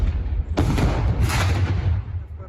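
A heavy tank cannon blast booms once as it fires at a building, then a second muffled detonation rumbles on, loud with a long low decay.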